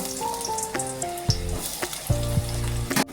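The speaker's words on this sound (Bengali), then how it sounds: "পেঁয়াজটা ভালো করে ভেজে নেব" Finely chopped onions fry in hot oil with bay leaves for a jackfruit kalia, sizzling close by under tonal clanks and scrapes of a utensil against the pan.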